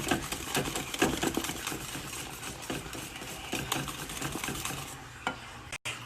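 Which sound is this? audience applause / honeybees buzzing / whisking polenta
whisking polenta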